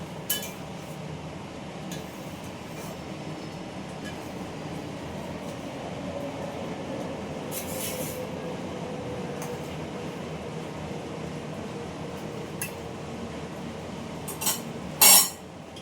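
Hilsa fish being stirred in a pan with mustard oil, a steady low sizzle with scattered metallic clinks of utensil on pan, ending in a few sharper knocks.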